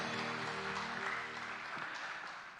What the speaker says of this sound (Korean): 박수로 하나님을 찬양합니다.